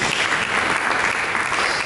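A church congregation applauds, a dense, even burst of clapping filling the room at steady volume with no voices above it.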